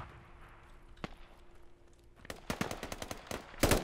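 Gunfire in the military shooter Squad: after a quiet stretch with a single distant crack, sharp nearby bursts of rifle and machine-gun shots build rapidly and end in a loud volley, with no talking.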